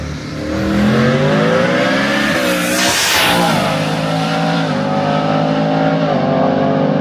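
A loud, raw drag race car engine with open headers and no muffler roars continuously at a quarter-mile strip in Mexico, revving and shifting pitch with a harsh unmuffled rasp, briefly swelling as it passes close.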